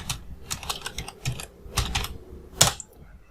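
A password is typed on a computer keyboard with a quick run of close, clicky keystrokes in uneven bursts, ending in one louder key press.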